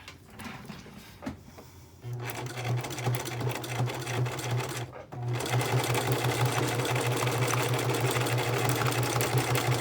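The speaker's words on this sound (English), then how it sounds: "If you want to fast forward through the sewing, that's fine." A sewing machine stitches through the pages of an altered book, its steady mechanical hum starting after a quieter stretch of handling sounds, pausing briefly, then running on continuously and close.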